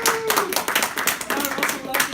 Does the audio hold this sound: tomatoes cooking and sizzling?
no